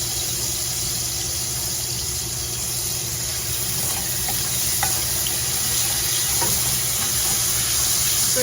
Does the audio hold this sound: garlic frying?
yes